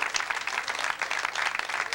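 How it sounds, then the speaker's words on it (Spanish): Audience applause at a festive party celebration, a steady, dense burst of clapping from a crowd close by, continuing evenly throughout. "¡Aplausos!"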